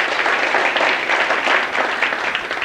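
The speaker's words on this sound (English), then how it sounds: "Should we give him a round of applause for helping?" Audience at a 1991 Washington Day banquet bursts into a round of applause, a dense, steady clapping that fills the room at close range for a few seconds with no voices over it.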